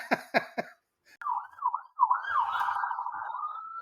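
A private ambulance siren rings out clearly, its wailing tone rising and falling as the vehicle passes close by, after a few short sharp sounds at the start.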